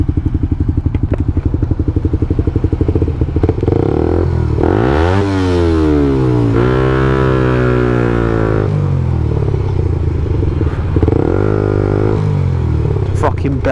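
A motorcycle fitted with a Scorpion exhaust on the road, its engine droning with rising and falling revs through gear changes, close and loud, with a rider talking over the sound at times.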